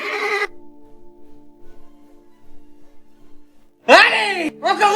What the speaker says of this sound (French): amenez le cheval.